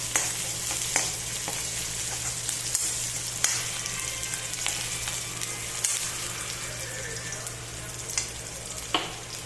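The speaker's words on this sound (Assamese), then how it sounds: "পিঁয়াজখিনি ব্ৰাউন হোৱালৈকে ভাজিম।" Sliced onions fry in hot oil in a pan while being cooked down until brown for a pumpkin and fish curry, a constant low sizzle broken by scattered sharp stirring clicks and scrapes.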